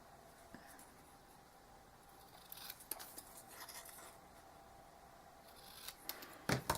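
Scissors snip through paper for a paper bow, starting as quiet, close cuts and building to several crisp, sharper snips near the end.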